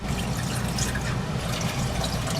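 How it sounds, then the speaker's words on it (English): Water pours steadily into a pot sitting on an RV stove burner, a close, continuous splashing rush with no talk. "I'm gonna add my water."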